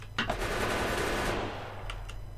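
Gun turrets in the Factorio video game firing rapidly at an enemy base, a dense continuous rattle of automatic gunfire, fairly quiet and without speech.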